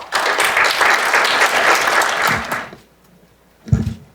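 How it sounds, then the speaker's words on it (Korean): Audience applause at a naval policy forum, a dense, steady burst of clapping from a large crowd lasting about two and a half seconds before fading, followed by a short thump near the end. "큰 박수 부탁드립니다."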